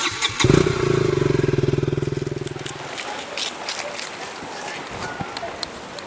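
A motorcycle carrying a passenger starts up and pulls away with a loud, throbbing engine rumble that fades over a few seconds. Faint voices and rustling follow.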